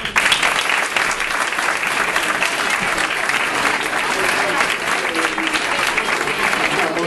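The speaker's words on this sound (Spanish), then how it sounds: "Quiero pedir a todos los presentes un fuerte aplauso" A graduation ceremony audience breaks into sustained applause, a dense, loud wall of many hands clapping that holds steady for the whole stretch.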